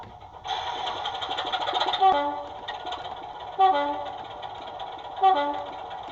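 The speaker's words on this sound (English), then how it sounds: "There we go, that's the horns." Model railway sound system on a 1:76 layout playing a locomotive's diesel engine running with three short two-tone horn blasts on top of it, fairly near and clear.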